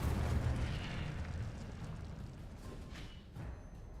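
The Incendio fire spell cast in Hogwarts Legacy, a close whooshing burst of flame followed by crackling, rumbling fire that fades over a few seconds, with a couple of small pops near the end.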